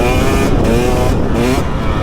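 A KTM 300 two-stroke dirt bike engine, 2023 300XC TBI or 2021 300XCW TPI on an Erzberg-style ride, pulls steadily under partial throttle, a loud, close, continuous drone with wavering pitch and no talk over it.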